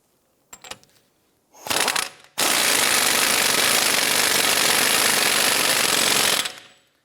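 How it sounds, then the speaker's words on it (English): Power tool tightening the axle nut on a 2005-2007 Ford 500 during a front strut replacement: a couple of short bursts, then a loud continuous rattling hammer for about four seconds before winding down. "Go ahead and install the axle nut."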